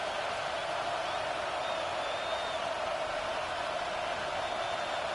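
Football stadium crowd at a Cowboys vs Bengals game, a dense, constant roar of many voices that stays steady and loud throughout, with a faint whistle-like tone drifting above.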